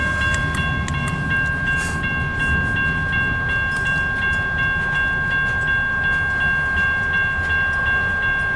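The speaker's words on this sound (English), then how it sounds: "Here's one of the trains." A CN long-haul manifest mixed freight train passes westbound, a loud, steady rumble of rolling cars with sustained high ringing tones, heard alone and close throughout.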